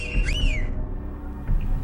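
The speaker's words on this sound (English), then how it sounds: "and he whistled." A man whistles a short rising-and-falling tone, loud and close, over a busy, muffled background of voices and room noise.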